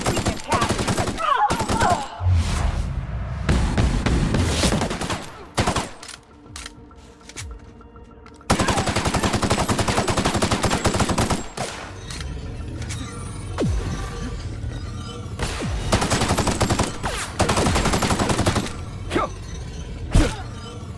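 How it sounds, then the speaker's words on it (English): Rapid bursts of gunfire in The Outer Worlds, loud clattering volleys of automatic fire broken by short gaps, with occasional talk between the bursts. "Use your gun, Nayoka,"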